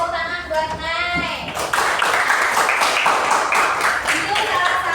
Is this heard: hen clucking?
no